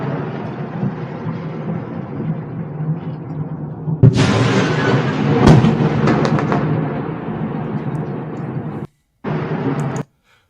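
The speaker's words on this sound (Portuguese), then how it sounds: "É a explosão, né?" An explosion from an attack on the Elektromash factory in Nova Kakhovka hits with a sudden sharp blast, followed by a loud, sustained rumbling roar that runs for several seconds before cutting off.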